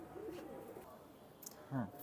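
Sakhi Teddy pigeons give a couple of soft, low coos, near and fairly quiet, with faint bird chatter in the background.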